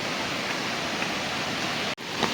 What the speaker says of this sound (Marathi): तुम्हाला आवाज येतच असेल किती पाणी आहे ते